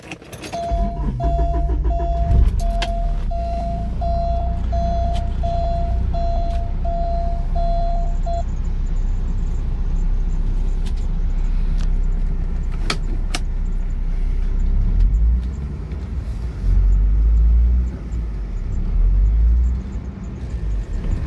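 A 1989 Porsche 944 S2 pulled out of a garage. A door chime beeps repeatedly at first, then the engine rumbles low and steady up close, with a few clicks and clunks along the way.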